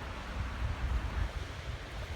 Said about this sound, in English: you can hear the wind just howling above us